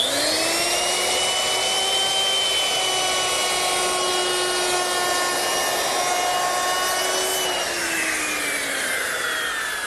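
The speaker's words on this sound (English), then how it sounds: "you might think that you can make that bull-nose with your handheld router" Handheld router with a bearing-guided bit rounding a bull-nosed edge along a 1x8 pine lid, a loud steady high whine held for about seven seconds, then its pitch sagging and dropping as the cut ends.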